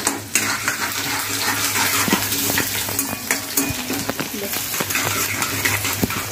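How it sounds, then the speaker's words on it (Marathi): Garlic sizzling in hot oil in a pan with green chillies, a steady close crackle of frying with occasional stirring and light utensil clinks. "हा लसूण घालते मी, त्यालाही चांगला फ्राय करून घेते."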